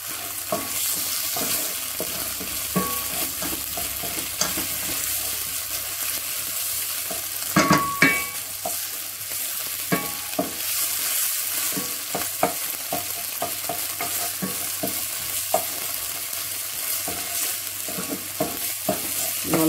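Tomato puree and onions frying in hot oil for a fish soup, a steady crackling sizzle throughout with intermittent scraping and clinking stir strokes, one louder clatter partway through, no talking.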